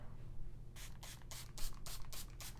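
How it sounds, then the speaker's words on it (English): Spray bottle misting plain water onto a painting canvas in a series of about eight quick, evenly spaced hissing spritzes, close and clear with no talk. "So I'm spraying the canvas with just plain water."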